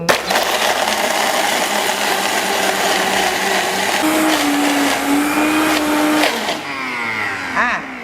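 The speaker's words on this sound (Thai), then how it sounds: "เสร็จแล้วเราก็จัดการปั่นได้เลยนะค ะ ด้วยเครื่องปั่นเอลตันเหมือนเดิม" An Elton blender crushes ice for a coconut milk drink with loddong, roaring steadily and loudly with a grinding, churning tone that shifts pitch as the ice breaks down, then eases near the end.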